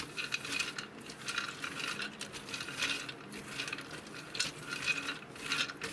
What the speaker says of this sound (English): I want you to give your nuts a good stir.